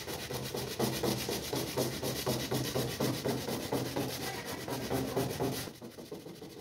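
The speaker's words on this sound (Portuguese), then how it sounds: "eu estou utilizando com a própria mão uma lixa 80 e esfregando bem as partes aí" Hand sanding the metal of a Kombi sliding door with 80-grit sandpaper gives a steady, loud rhythmic scrubbing of quick back-and-forth strokes that runs continuously, then eases off near the end.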